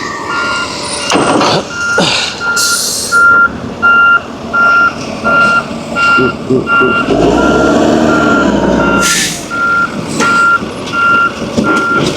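Steady, repeating reversing beeps from a worn forklift sound out over truck engine rumble and an air brake hiss while an oversize load is unloaded, loud and close, with a deeper engine surge partway through.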